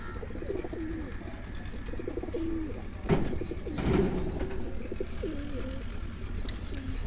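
Several pigeons coo continuously nearby in low, rolling phrases, with a couple of louder rustling bursts partway through and light chirping over a constant background murmur.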